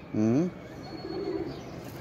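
A large pigeon gives a close, soft coo with a rising, wavering start, followed by a fainter, lower second coo over light background noise.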